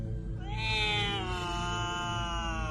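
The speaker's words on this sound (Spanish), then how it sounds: "escuchó allá afuera el grito horrible de un gato." A cat lets out a long, drawn-out yowling scream, rising then wavering, loud over a steady background hum.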